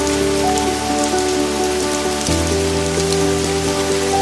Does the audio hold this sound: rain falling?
yes